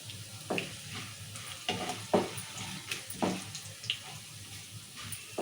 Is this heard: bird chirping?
no